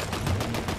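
Gunfire in a multiplayer shooter video game, a dense burst of shots filling the short moment at steady loudness, with no talk over it.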